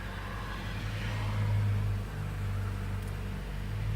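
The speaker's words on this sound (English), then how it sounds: "Actually runs quite well for a car that's got 2-year-old fuel in it." A Toyota Corolla ZRE152R petrol engine idles steadily on 2-year-old fuel, with its accessories switched off, a constant close-up hum with a low steady drone that swells slightly midway.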